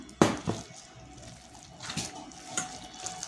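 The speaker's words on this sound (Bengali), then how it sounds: "আর সামান্য জল দিয়ে ব্যাটারটা একটু হালকা নরম করে নেব।" A little water poured into pakora batter made from banana flower, heard as a short splash followed by faint trickling and light handling sounds in a quiet kitchen.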